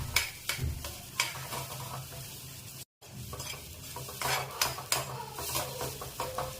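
Stirring and mashing banana slices into suji halwa in a pan, with soft scraping and clinking of a spoon against metal, quiet, irregular strokes and a faint sizzle beneath.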